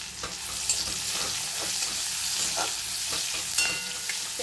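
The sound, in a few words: onions frying in oil with nigella seeds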